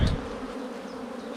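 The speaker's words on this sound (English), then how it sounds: "a huge amount of bees which are not on swarmy condition" Honey bees hum at an open hive, a steady low drone holding evenly throughout after a brief louder thump at the start.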